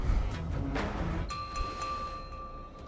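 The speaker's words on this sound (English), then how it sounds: "We could try ringing the harmonic chime." A harmonic chime rings in the video game Honkai Star Rail. A clear, sustained bell-like tone enters partway through and hangs over a busy game background.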